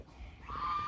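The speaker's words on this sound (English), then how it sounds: "this is the big goose" A large goose gives one nasal honk rising toward the end of a short moment, fairly close, over faint background noise near a feeder.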